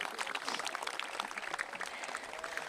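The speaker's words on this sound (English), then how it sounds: "Everyone give yourselves a round of applause." Audience applause at a sports partnership press conference with Toronto FC, Toronto Argonauts and over 200 youth, a steady, fairly close wash of clapping that holds for the full stretch without letting up.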